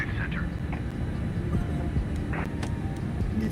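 An airliner's engines rumble low and steady as it starts its takeoff roll on runway 25 center in a flight simulator game, with radio chatter and a talking voice over the top.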